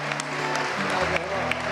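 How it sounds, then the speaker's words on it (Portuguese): A crowd at a Cacique de Ramos samba gathering with a priest claps briefly, a soft wash of applause under music and murmured voices. "Vamos aplaudir."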